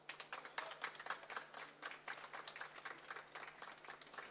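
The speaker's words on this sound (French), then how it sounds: "On peut les applaudir." A live audience claps together at a stage show, a dense run of quick, close claps that holds steady for several seconds.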